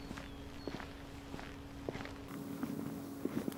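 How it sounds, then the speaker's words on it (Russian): Footsteps at a normal walking pace, recorded on a Sony HDR-AS300 action camera with noise reduction off: steady, moderately close steps over a constant background hum, with no talking. "Ну и идем обычным шагом."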